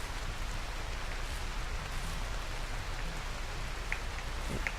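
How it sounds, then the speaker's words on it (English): Heavy rain in the video game Rimworld pours down as a dense, steady hiss with no let-up, a few brighter drop-like ticks standing out near the end; nobody speaks. "It's pouring in rain."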